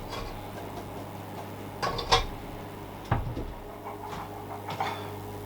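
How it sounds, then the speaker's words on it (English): Boiled potatoes shaken in a colander: a few rattling, knocking bursts of potatoes jostling against the strainer, with quieter gaps between shakes and no talking. "The potatoes are strained into a colander and given a good shaking to rough up the outsides."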